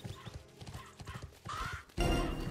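In the video game Bless Online, quick clip-clopping hooves trot along, then a loud horse neigh rises before a sudden burst of broadband noise cuts in.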